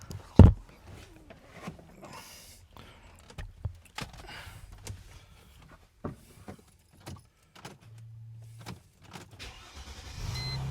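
A 2003 Chrysler Crossfire with a 3.2-litre six-cylinder engine, fault codes stored, cranks and starts after a loud clunk, then settles into a quiet, low idle with scattered clicks and small handling noises nearby.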